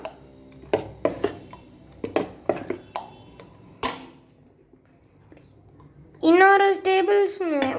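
Ragi dosa batter is stirred in a bowl with a ladle, giving scattered clinks and scrapes, followed by a brief loud clatter and then a harsh tonal burst near the end.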